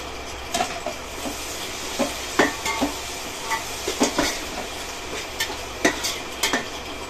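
Green chillies are stirred in a hot pan with a metal spoon, making repeated scraping clinks over a steady, dense sizzle. No one speaks.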